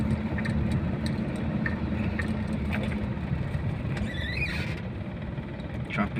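Heavy traffic in Manila, a dense steady rumble of idling and creeping car engines close by, with a brief squeal of brakes partway through and faint voices under the noise.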